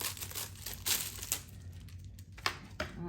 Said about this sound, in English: I will cut it